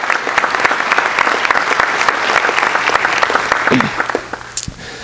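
Sustained clapping fills a high school board meeting room for National Hispanic Scholars, then thins and fades near the end as a voice briefly begins.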